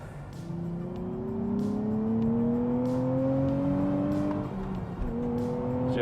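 A 400-horsepower 2023 Nissan Z accelerates hard, its engine note climbing steadily through a gear before a quick shift and another rising pull, heard from inside the car.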